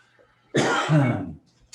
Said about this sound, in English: hot peppermint making me cough.